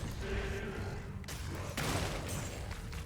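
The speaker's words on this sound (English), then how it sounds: "Corpse Explosion is going to have to do work here." Corpse Explosion spells in Diablo 2 Resurrected burst over a busy game-combat din, with a couple of sharp blasts standing out against steady background noise.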